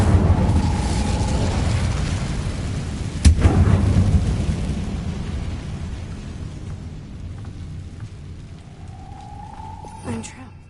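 A fire spell cast in Hogwarts Legacy erupts with a sharp burst followed by a roaring, crackling whoosh that slowly fades, with a tonal hum around it and a second smaller pop near the end; a voice speaks over the game sounds.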